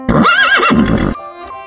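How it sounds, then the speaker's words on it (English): A horse lets out a single loud, close whinny with a wavering, rising-and-falling pitch lasting about a second, then fades into a quiet tonal background. "Horse."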